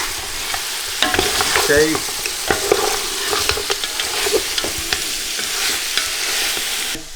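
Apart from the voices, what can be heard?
frying and stirring botia meat chunks in a pan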